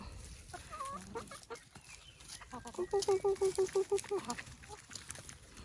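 Laying hens feeding together cluck in a quick rhythmic run of about a dozen close, loud clucks, with scattered calls and soft background clucking from the flock before it.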